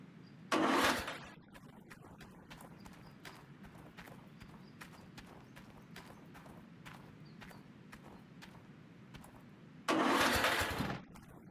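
Vehicle engines in the Gold Rush: The Game mining game idle with a steady mechanical ticking, broken by two loud roaring bursts near the start and end.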